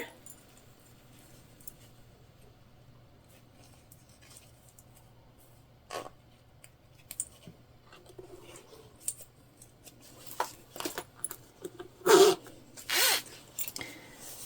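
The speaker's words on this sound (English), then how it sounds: "Now we need to put on our zipper pull." A metal zipper pull is worked onto the zipper of a fabric tote bag, with faint scratches and clicks that build into a few louder, sharp ratcheting zips and rustles near the end.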